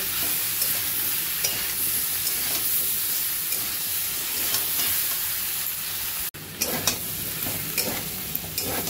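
Papaya is stirred and sautéed with ginger garlic paste, cumin and chili powder in a pan for a Bengali dalna, giving a continuous close sizzle and scraping stir throughout, briefly cutting out before resuming with sharper stirring strokes.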